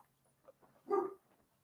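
A single short dog bark sounds at moderate distance indoors, preceded by a faint whimper, with otherwise quiet surroundings.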